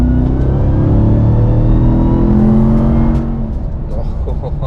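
A Ram 1500 TRX super truck's engine revs hard and accelerates with a loud, close, sustained roar that eases slightly after about three seconds.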